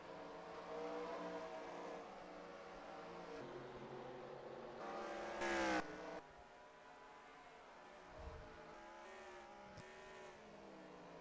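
Race cars whine past at Watkins Glen in NASCAR Racing 2003, a faint engine drone with one brief louder pass partway through, then quieter running.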